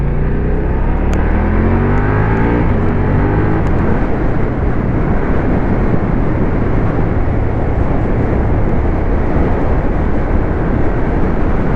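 A motorcycle accelerates on a country road in the Hauts-de-France, its engine note climbing near the start before a loud, steady roar of engine and wind rush takes over for the rest of the ride.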